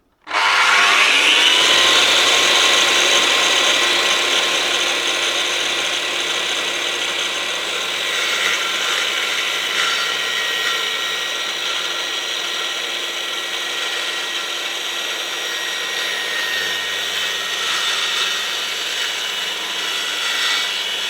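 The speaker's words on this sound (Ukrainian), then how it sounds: "Спробуємо спочатку циркулярну пилу." A circular saw fitted with a Bosch Carbide Multiwheel disc whines loudly and steadily as it cuts through wood, a long sustained high-pitched drone with no speech.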